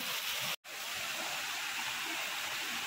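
Strong rushing water flows steadily at a bathing spot where people swim, a dense close wash of sound with a brief dropout near the start.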